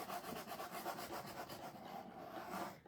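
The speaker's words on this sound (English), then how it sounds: "I'm just going to use my little tool here to kind of rub that on there" A small handheld tool rubs a stencil onto paper in steady, quick back-and-forth strokes, making a soft, close scratching rasp.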